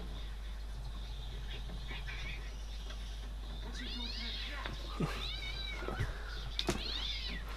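A cat meows in the film Darkman III, with several rising and falling cries in the second half over a steady low hum from the soundtrack.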